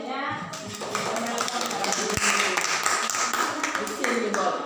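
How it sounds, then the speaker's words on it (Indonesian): Classroom applause for a student group in a Year 7 lesson, a crowd of students clapping steadily for several seconds with a dense, continuous patter, loud and close, mixed with some voices. "kita beri aplaus"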